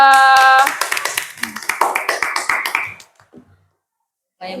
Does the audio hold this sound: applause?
yes